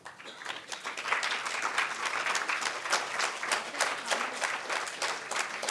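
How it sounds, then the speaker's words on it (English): Guests at a founder's birthday celebration applaud two honourees, a sustained crowd clapping with distinct individual claps standing out, swelling in at the start and holding steady throughout, no speech over it. "Could I kindly ask both Sangeeta and Rakesh to stand up so that we can applaud them?"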